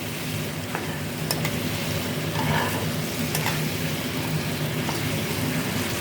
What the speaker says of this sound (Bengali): আলুটা আবার 2 মিনিট আমি কষিয়ে নেব।